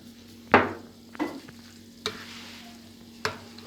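Roasted eggplant, garlic and salt for Ali Nazik are stirred in a bowl, with four separate scraping strokes at irregular intervals over a faint steady background hum.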